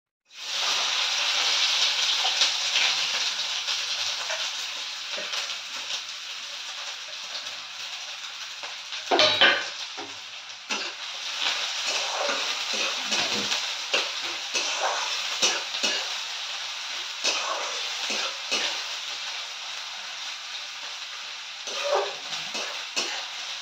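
Steady hissing sizzle of onions frying in a pan, continuous throughout with occasional stirring scrapes and clinks.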